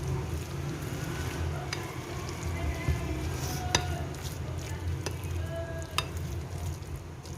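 Kadhi, a yogurt curry, bubbles and simmers in a pot at a steady boil, with a continuous soft seething and occasional faint clinks, heard alone with no talk.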